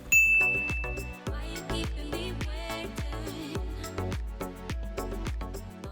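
A bright notification bell dings near the start, ringing briefly over steady rhythmic background music with repeated percussive hits.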